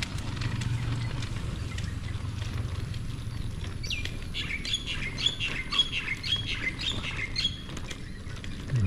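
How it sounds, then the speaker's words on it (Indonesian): A bird outdoors gives a series of loud, repeated squawking calls midway through, over a low steady background rumble on a morning walk. "Ini burung."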